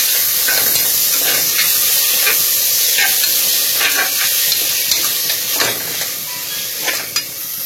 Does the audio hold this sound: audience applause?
no